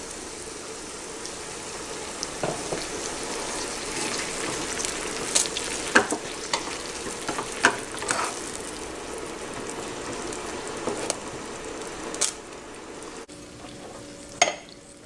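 Saffron water poured into a hot pan for Persian rice with chicken and dried cranberries, sizzling and frying steadily with scattered scraping stir strokes throughout, close and moderately loud, no talking.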